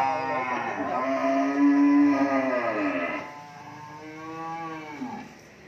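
Cattle on a cattle farm in Mỏ Cày Bắc moo in long, drawn-out, loud calls, one sustained bellow followed by a second lower moo, with no talk over them.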